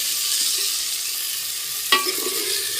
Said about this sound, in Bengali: মশলাগুলোকে কষিয়ে নিচ্ছি সুন্দর করে